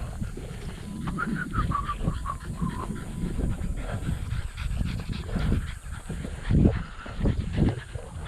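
Several pet dogs pant steadily and rhythmically while out on a walk, the quick breathy huffs close and continuous, with footsteps and light outdoor noise beneath.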